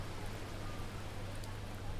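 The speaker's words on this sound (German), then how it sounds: "Es regnet übrigens" Dense, even rain noise pours down steadily with a constant low hum beneath it, no talking, in the Train Sim World game on the Northern Line.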